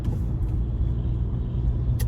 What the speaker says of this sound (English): this truck is pissing me off